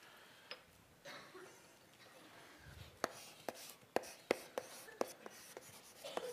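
Chalk or marker writes on a board during a university calculus lecture, giving a sequence of sharp taps and strokes that become regular clicks in the second half, with faint room noise.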